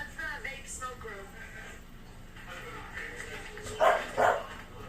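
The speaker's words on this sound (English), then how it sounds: "starts barking" A dog barking twice in quick succession, close and fairly loud, with people talking quietly in a room around it.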